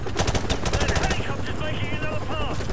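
Rapid automatic gunfire rattles in dense bursts inside a greenhouse in the video game Modern Warfare Remastered. A voice talks over the continuous, close shooting.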